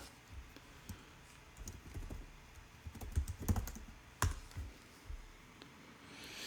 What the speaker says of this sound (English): I'm going to type in Sacramento news channels.